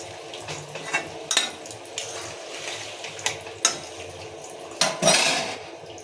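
Metal lid set over a pot of apple chutney cooking in hot water: scattered clinks and scrapes of metal, then a louder clatter as the lid goes on, with faint bubbling underneath.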